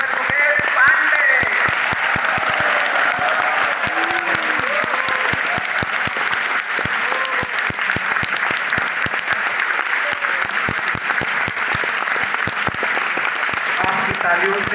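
Loud, sustained applause from a large audience at a university award ceremony, dense continuous clapping with voices and cheers mixed in throughout.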